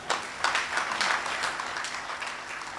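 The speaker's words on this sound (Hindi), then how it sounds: "जीवधारी इतनी घनत्वपूर्ण तालियों का उत्पादन करने में समर्थ हो पाए" An audience applauds at a Hindi poetry event, producing a dense burst of many hands clapping that rises quickly and then thins slightly across a few seconds.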